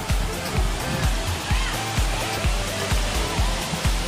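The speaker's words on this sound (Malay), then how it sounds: "Akhirnya sampai juga air terjun." Klimau waterfall roars in a dense, continuous rush, with regular low thumps pulsing underneath at about two per second.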